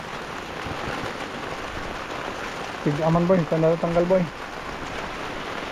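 Rain falls steadily on a farm as a storm approaches, a constant wash of hiss under the whole stretch, while someone talks briefly in the middle.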